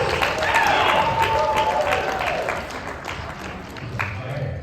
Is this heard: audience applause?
yes